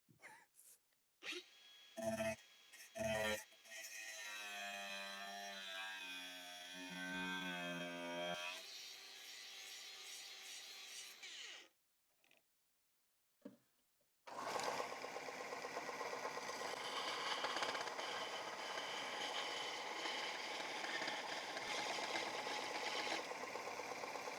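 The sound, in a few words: belt sander grinding a bevel on a steel chisel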